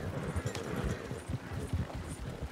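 Horses pull a wagon in Red Dead Redemption 2, their hooves clip-clopping in a quick, uneven rhythm close by. The hoofbeats go on without pause and no one speaks.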